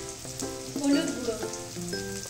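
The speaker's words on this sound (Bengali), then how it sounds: "সামান্য একটু জল দিয়ে মশলাটা ভালো করে কষিয়ে নিচ্ছি।" Ground spices such as cumin and turmeric sizzling in hot oil in a pan for a cabbage and fish head dish, steady close frying crackle with a few stirring scrapes.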